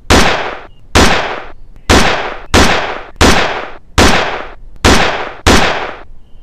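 Gunfire in the video game Death to Spies: eight loud, sharp shots at a steady pace of roughly one per second, each with a short decaying tail, and no voices over them.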